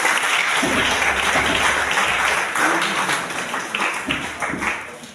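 A church congregation at a Sunday worship service breaks into sustained, dense applause, many hands clapping together loudly and steadily throughout, with faint voices mixed into the crowd noise.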